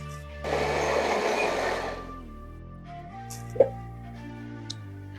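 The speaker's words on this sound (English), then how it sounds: "We're gonna blend some more." A blender whirs loudly through tofu yogurt in one burst of about a second and a half, then stops, leaving a quiet hum and a couple of faint clicks.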